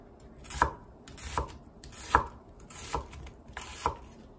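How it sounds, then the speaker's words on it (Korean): A knife chops onion on a cutting board for grilled squid. Five distinct, fairly close chops land in an uneven rhythm about 0.7 seconds apart, with no talking. "오징어구이에 들어갈 양파를 썰어 보겠습니다."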